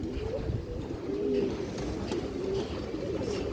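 Soft, low pigeon coos repeat close by against a quiet background, a gentle burbling murmur rising and falling.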